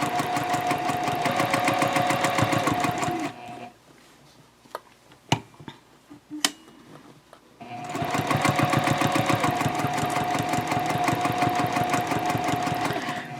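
Sewing machine stitching a fabric eco-friendly shopping bag at a 2.5 stitch length, running in a steady loud mechanical rattle for about three seconds, pausing with a few small clicks, then resuming an equally steady run.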